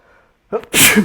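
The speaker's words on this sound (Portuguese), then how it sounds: "espirrei" A single close, loud sneeze bursts out after a brief faint intake of breath, alone in a quiet room.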